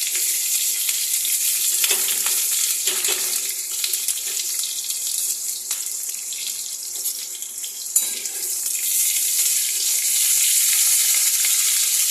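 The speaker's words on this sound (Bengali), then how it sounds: "এর মধ্যে একটু ক্যাপসিকামগুলোকে ভেজে নেব।" Capsicum pieces frying in a pan, a loud, steady hissing sizzle close up with occasional scrapes and clicks from stirring, unbroken and without talk.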